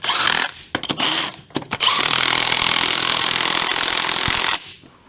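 An impact tool stutters in a few quick bursts, then hammers continuously for a couple of seconds while driving 21 mm lug nuts onto Mazda B2200 rims fitted to a Camry, loud and close before cutting off.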